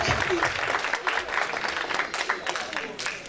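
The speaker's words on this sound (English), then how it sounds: "Give them a round of applause, please" A round of applause from a church or community gathering honoring civil rights work, scattered hands clapping at moderate volume with voices murmuring and speaking over it.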